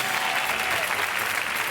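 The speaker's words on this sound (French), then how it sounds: "On peut quand même l'applaudir" A French TV game-show studio audience claps loudly in a dense, continuous burst of applause.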